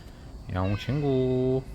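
A person imitates a cat's meow, two drawn-out, rising-then-falling meow calls in quick succession, loud and close, with the second held longer.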